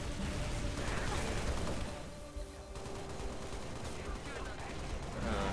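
Anti-air turrets fire in a Halo Reach campaign battle, rapid, continuous gunfire heard fairly faint and distant through the mix, with a short dip in the middle before the barrage resumes.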